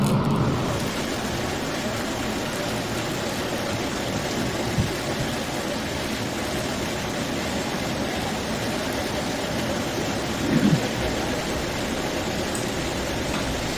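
Relentless Typhoon Bavi rain pours down in Liaoning province, a dense, steady hiss of water that holds an even level throughout, with only a couple of brief low thumps rising out of the wash.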